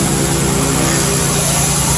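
A Ryobi pressure washer sprays through an extension pole fitted with a power blaster tip while cleaning a screen enclosure, a loud, continuous motor drone with a broad hissing rush of water, steady and close, with no voices.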